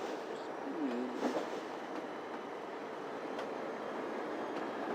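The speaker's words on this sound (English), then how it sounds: "the engines running today's D&H train are the ones you heard about, the PA-1, also known as shark noses" A D&H train led by PA-1 shark-nose diesel locomotives rumbles along in the Trainz 2019 simulator, a faint, steady low engine drone with a brief horn-like tone near the start and no talking.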